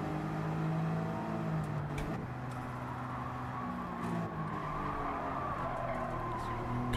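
A race car in Gran Turismo drones at steady high revs while held in third gear, a continuous engine tone with a brief shift-like break, no voice present.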